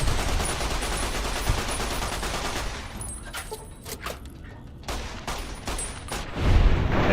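Automatic weapon gunfire in a first-person shooter video game, a dense sustained burst of rapid shots followed by several separate sharp cracks and a low boom at the end, loud and with no talking.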